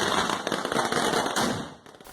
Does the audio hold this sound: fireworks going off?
yes